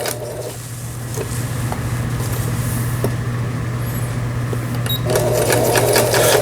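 A Brother sewing machine stitching steadily after a sensor repair, with a loud, even mechanical hum and rapid needle chatter, and a brief change in tone near the end.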